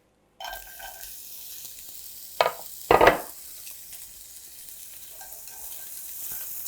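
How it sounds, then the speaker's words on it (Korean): Zucchini hitting hot oil in a pan over medium heat, a steady soft sizzle with two sharp bursts of frying and stirring noise near the middle, fairly quiet and close. "호박을 볶아보도록 하겠습니다"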